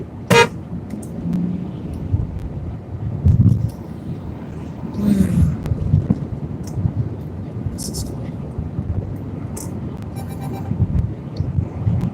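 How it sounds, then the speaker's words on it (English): Car horn honks cut through steady road and engine noise, with people talking over the drive. "you guys got to see at least one honk"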